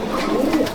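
Andhra pigeons coo softly in a loft, a short, close, low murmuring burble with no other sounds over it.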